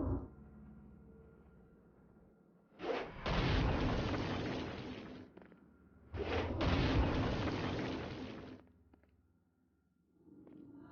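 Stone Blast explosions in Saints Row: Gat Out of Hell, two heavy booming blasts a few seconds apart, each loud with a long rumbling tail fading into quiet game ambience.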